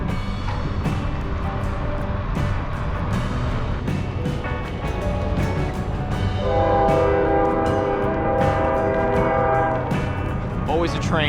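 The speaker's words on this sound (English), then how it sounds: "Always a train." A train rumbles past with clattering wheels while its horn blares in long, loud blasts; a voice can be heard faintly underneath.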